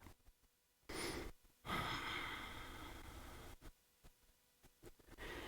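During a gentle yoga session, slow breathing comes up close and soft, with a long airy exhale followed by quieter breaths and faint rustles, no talking.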